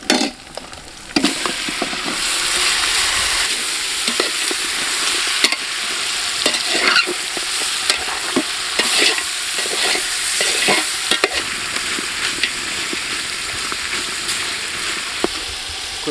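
Country chicken frying and being stirred in an onion, ginger and garlic paste with turmeric for a spicy village curry, heard as a loud, close, sustained sizzle broken by repeated scraping and clacking of a spoon against the pan, with no speech.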